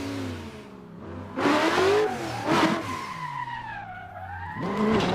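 A drift car's engine in Assetto Corsa revs up and down in rising and falling sweeps, mixed with screeching tire skids, loud and continuous, with no voices.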